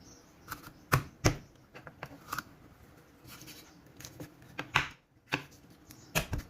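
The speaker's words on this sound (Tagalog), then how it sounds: "hatiin ko itong tilapia" A knife chops through tilapia on a board in an ASMR Filipino kitchen: a dozen or so sharp, irregular cuts and taps, close and clear, with pauses between strokes and no talking.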